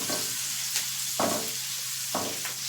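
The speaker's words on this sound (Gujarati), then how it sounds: "આ રીતે ડુંગળીને આપણે સોટ કરી લેશું" Onions sautéing in a pan for dal tadka, a constant close sizzle with three or four distinct scraping stirs spaced about a second apart, no voices.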